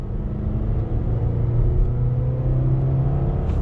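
A 2020 Subaru Impreza engine drones steadily with a low, continuous rumble, its pitch holding fairly even as the car pulls under throttle in second simulated gear.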